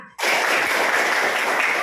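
A classroom of students claps together on cue during a lesson, a dense, loud burst of applause starting abruptly and holding steady without fading.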